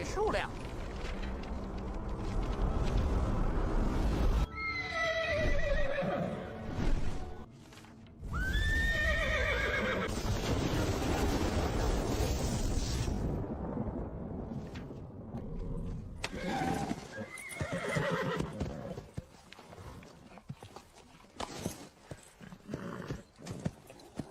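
Heavenly horses in a dramatized scene neigh loudly several times in long shrill whinnies over a dense background, with hoofbeats and voices speaking in between.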